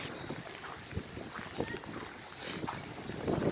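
Steady wind rushes and buffets outdoors in Yakutsk in December, a broadband roar with gusty swells and low rumbling bursts against the microphone, growing stronger toward the end.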